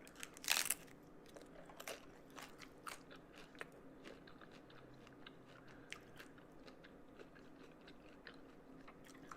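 A pickle is bitten and chewed close to the mic, with one loud crisp crunch at the start followed by quieter wet chewing and crackling over several seconds.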